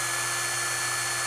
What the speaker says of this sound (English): I'll drill me a hole.